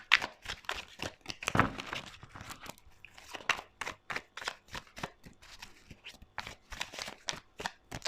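Tarot cards being shuffled and cut by hand during a reading, producing a run of crisp, papery riffles and flicks in quick irregular bursts, close and moderately quiet, with no voices.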